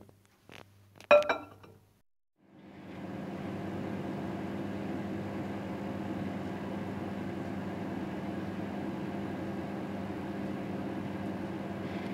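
A couple of sharp clicks, a brief pause, then a microwave oven's steady, even mechanical hum with a low drone that runs unbroken to the end, heating butter and chocolate in a mug.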